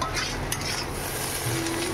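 Egg and soft potato pieces fry together in a pan with a close, steady sizzle and light stirring scrapes over a brief stretch.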